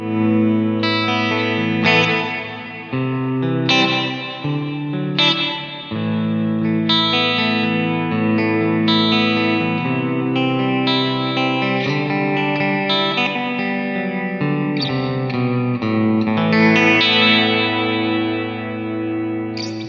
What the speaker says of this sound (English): The next one is a cave reverb, and this also handles the pre-delay on that.